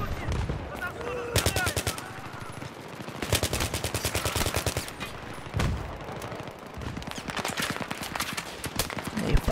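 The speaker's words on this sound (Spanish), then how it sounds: "Disparan por ahí detrás." Rapid bursts of machine gun fire in Battlefield 3, several rattling volleys at close to moderate range with short pauses between them, mixed with other battlefield gunfire and faint player chatter.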